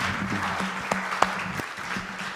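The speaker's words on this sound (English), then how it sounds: "go ahead with a lovely round of applause" An audience at a conference gives a round of applause after a talk, a steady patter of clapping with a few sharper individual claps, moderately distant and without talk.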